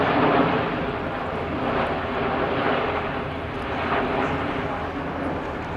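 Red Arrows RAF jets climbing in Diamond 9 formation during a flying display, a broad, continuous roar rolling steadily at a distance, with a commentator speaking over it.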